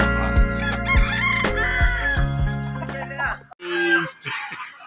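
A fighting rooster crows loudly and close on a farm in Malvar, Batangas, with repeated harsh calls, while other birds and voices are faintly heard in the background.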